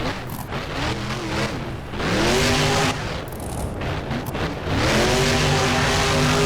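Toro Loco monster truck in the BeamNG video game launching up a ramp and catching big air, its engine roaring loud and steady with rising revs and surging throttle bursts, close and continuous with no talk.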